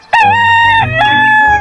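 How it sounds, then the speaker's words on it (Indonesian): A toy animal plays a recorded rooster crowing, one loud, close, clear cock-a-doodle-doo with a rising start and a long held ending, heard on its own. "ini ayam jantan atau ayam jago"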